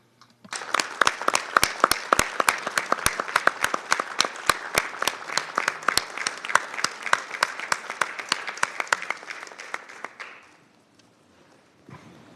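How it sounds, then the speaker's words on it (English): Applause fills a United Nations committee meeting room, many delegates clapping at once, with sharp individual claps standing out over the crowd before it fades abruptly into quiet room tone near the end. "I believe we all have to stand and give you the applause you deserve."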